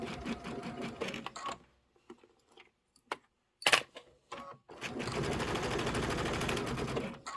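A sewing machine stitches fabric in short runs, its needle chattering in fast bursts that are split by pauses and a few isolated clicks before one longer steady stretch of stitching.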